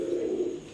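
A pigeon at a pigeon farm gives a single short, low, throaty coo, close by and clear against a quiet background.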